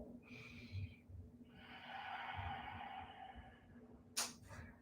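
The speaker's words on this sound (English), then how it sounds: "One more breath." Slow breathing during a gentle all-levels yoga flow, a long drawn inhale followed by a soft exhale, close and quiet, with a brief sharper breath near the end and no talking.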